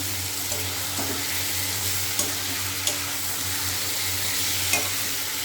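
Spices, potato and pointed gourd sizzle and fry in a pan, a steady crackling hiss under a low hum, with a few soft scrapes of stirring scattered throughout.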